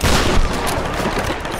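Gunfire in a Tomb Raider firefight, a loud close burst of rapid shots that crackles and then decays over a second and a half, with no voices.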